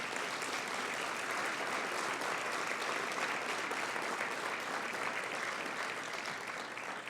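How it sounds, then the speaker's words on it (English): Audience at a city State of the City event breaks into steady applause, a dense even wash of clapping from a crowd, moderately quiet and sustained throughout with no voices above it. "Let's give a big round of applause."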